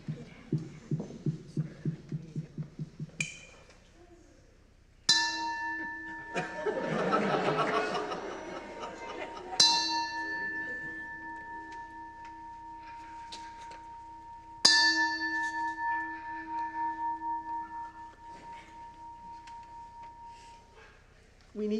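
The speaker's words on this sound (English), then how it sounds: "Ringing of the bell." A bell rings in a few separate strikes, each tone ringing on and fading slowly, after a patter of quick taps, with light laughter and chatter around.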